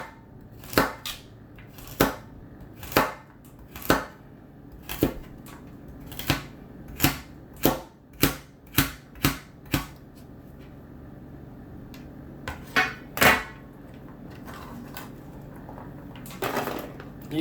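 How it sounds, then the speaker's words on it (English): Vegetables for chicken noodle soup chopped with a knife on a board, crisp close taps in an irregular then steady rhythm, pausing briefly before a few more cuts. "the veggies, you can cut them as large or as fine as you like."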